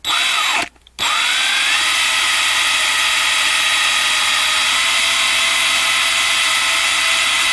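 A rotary drill boring out the rivets of a 1/64 diecast car: a loud, close, high-pitched whine that cuts out briefly near the start and then runs steadily to the end.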